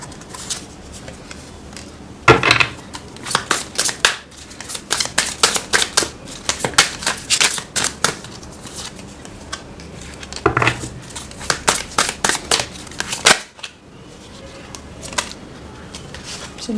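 Tarot cards are shuffled and handled in irregular bursts of crisp riffling and slapping, close up, with quiet stretches between and a voice speaking at times.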